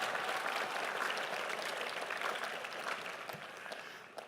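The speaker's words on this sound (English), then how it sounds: "You may applaud." A commencement ceremony audience claps steadily and warmly as a teacher receives the 2019 Exemplary Teacher Award, a dense sustained applause that slowly tapers toward the end.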